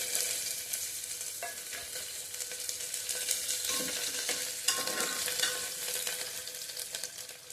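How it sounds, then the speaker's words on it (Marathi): Chopped onion with cumin is sautéed in a pan, producing a steady hiss and sizzle with occasional soft stirring scrapes, close and continuous with no talk. "कांदा छान गुलाबी होईपर्यंत परतायचा आहे"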